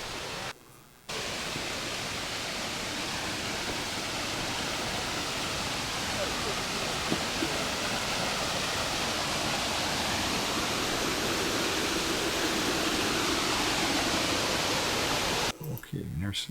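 Small Falls, a waterfall in Orford, New Hampshire, pours with a dense, steady roar that holds at an even loudness from start to finish, briefly cut off at the beginning and the end.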